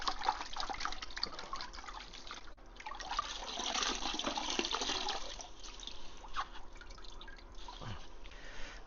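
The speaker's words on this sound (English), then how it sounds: "we're going to just dunk it in some water" A used filter is dunked in water, giving close, faint splashing, dripping and trickling that runs steadily for several seconds, with no talk.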